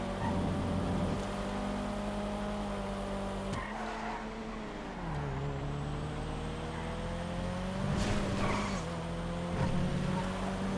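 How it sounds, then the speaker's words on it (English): Pegassi 811 supercar in a GTA FiveM street race: a steady high engine whine with shifting pitch, tires skidding and squealing through corners, and engine drops and climbs as it brakes and accelerates, loud and close throughout. "Here it is, the 811. The top supercar for top speed for a long time."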